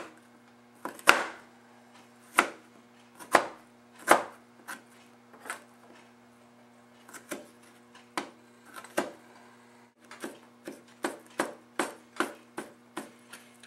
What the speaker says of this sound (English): I'm just going to start chopping small amounts here.